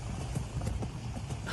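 A person imitates a galloping horse with rhythmic clip-clop mouth sounds, a fast steady patter of hoof-like clicks, close and fairly loud, during playful tennis-court fooling around.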